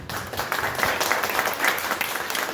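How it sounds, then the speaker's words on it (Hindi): Children in a puppet show audience clap together, a bright, uneven patter of small hands that swells and dips without any talk over it. "अच्छा बच्चों, जरा ये तालियां शालियां तो जरा बजाओ।"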